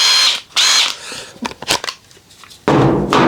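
DeWalt 18V cordless power tool triggered in a few short bursts, each a loud close whirring spin-up, separated by quiet gaps with small handling clicks.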